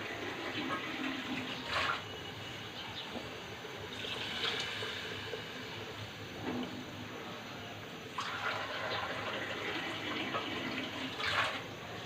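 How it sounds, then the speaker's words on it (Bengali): Water runs steadily into a cooking pan of fish, a continuous splashing gush that swells in bursts and stays fairly quiet and close from start to finish. "এখন পানি দিয়ে দিব।"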